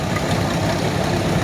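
Tractor engine, a John Deere-style model with tall sheet metal, running steadily at idle close by during a Sunday parade at an autumn corn shredding show, a continuous low rumble with no pauses.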